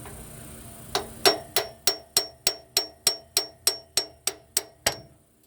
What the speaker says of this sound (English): this hammer is just too big for the job